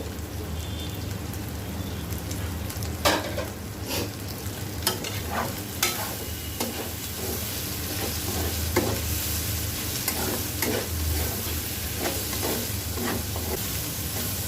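Long beans frying and being stirred in a pan for chicken chow mein, a steady loud sizzle with scraping stir strokes throughout and no talking.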